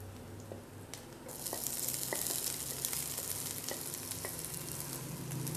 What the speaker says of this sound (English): saute that for about 30 seconds or so until your olives absorb some heat